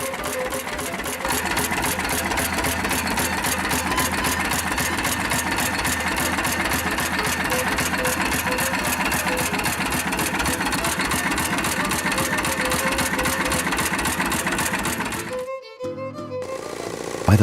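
An Enfield twin-cylinder air-cooled opposed boxer engine with a heavy cast iron block runs steadily and loudly with a fast, even mechanical chatter, then cuts off abruptly near the end.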